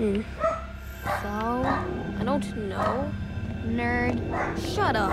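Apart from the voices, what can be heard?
dog barking in the background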